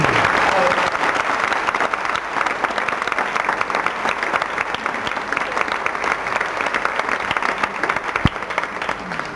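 A theatre audience claps steadily for a performer on stage, dense sustained applause holding at an even level, with a sharp knock near the end.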